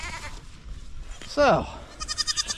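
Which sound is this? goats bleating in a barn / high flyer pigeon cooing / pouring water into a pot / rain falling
goats bleating in a barn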